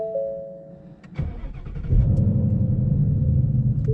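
Ford Mustang GT with the 5.0 Coyote V8 cranks briefly after a warning chime, then fires and settles into a loud, deep, steady idle rumble close by.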